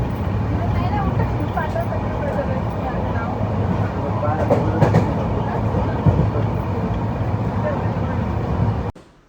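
A passenger train bound from Hadapsar railway station in Pune runs in a steady, dense rumble with faint rhythmic rattling, heard from on board or close by under a crowd's chatter, cutting off abruptly at the end.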